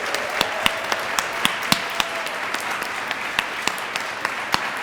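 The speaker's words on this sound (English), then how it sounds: "Give the man a round of applause." A small gathering at a solstice service applauds a man just crowned Holly King, with a steady patter of clapping in a room that keeps an even level throughout.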